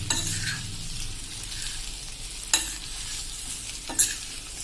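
Pieces of arbi leaf patra are stirred in a frying pan, a soft continuous sizzle broken by a few sharp scrapes and clinks of the spoon against the pan.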